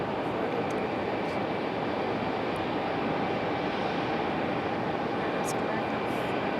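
A Breeze Airways airliner at Raleigh-Durham International Airport gives off a steady, broad engine roar that holds loud and even throughout, with faint outdoor background.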